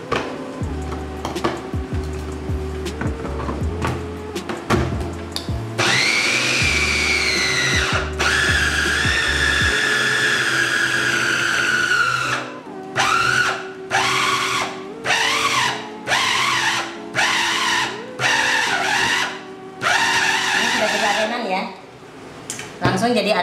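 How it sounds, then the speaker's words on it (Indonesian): Sweet potato dough is churned in an electric food chopper, a loud whirring motor that runs long and steady, then cuts into a series of short bursts as it is pulsed, with spoken talk over it at times. "Kita chopper dulu."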